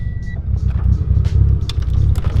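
A Mitsubishi Evo 9 with an aftermarket exhaust rumbles deep and steady nearby, a low throbbing engine note with no talk over it.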